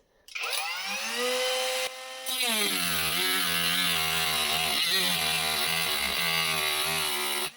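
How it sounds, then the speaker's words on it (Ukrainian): Power saw cutting through the plastic case of a LiFePO4 battery pack, a loud, steady, high-pitched whine that starts, pauses briefly, then runs continuously close by with grinding harmonics, no talk. "треба на вулиці різати, бо фу, вся студія буде смердіти пластмасою"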